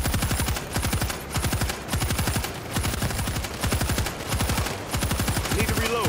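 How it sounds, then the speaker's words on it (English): A stationary machine gun in the zombie shooter World War Z fires in rapid, loud bursts, with short gaps between volleys and a steady mechanical hum underneath. "Stationary gun good to go."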